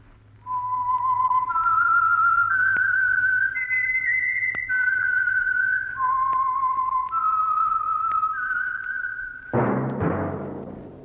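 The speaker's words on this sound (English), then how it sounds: "That whistle is your signal for the Signal Oil Program, The Whistler." Solo whistled melody of the Whistler radio theme from the Signal Oil Program, a clear rising-and-falling tune of sustained notes, followed by a sudden burst of orchestral music near the end.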